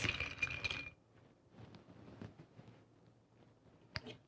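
Ice clinks against a mixing glass while brown liquor is stirred, with a burst of rattling at the start, then faint scattered taps and one sharp clink near the end.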